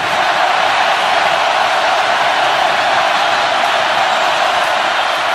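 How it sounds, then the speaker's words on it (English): Loud, dense roar of a Texas crowd at the noisy end of a college football stadium during Oklahoma versus Texas, a steady wall of massed voices and cheering with no letup. "This again is the noisy end. The Texas crowd breathing down Gabriel's neck here."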